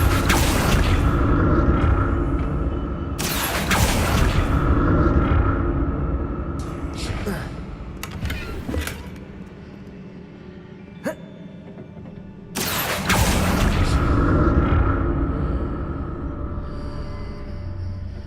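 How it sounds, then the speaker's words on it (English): Confringo blasting-spell explosions in Hogwarts Legacy come as several loud, sudden bursts with rumbling tails, spaced out among quieter stretches, while a voice talks in between. "What did that burst of magic do?"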